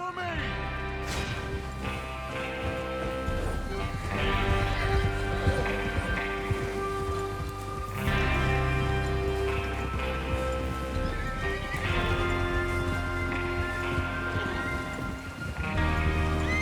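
Horses gallop with rapid hoofbeats and neigh repeatedly over a music score in the video game Red Dead Redemption 2, with occasional voices mixed in.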